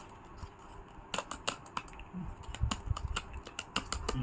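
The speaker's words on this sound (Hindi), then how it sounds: "इसकी मैं कीबोर्ड से टाइप करना चालू करूँगा" Fingers typing on a computer keyboard: irregular bursts of sharp, quiet clicks over a soft room hum, with no talking.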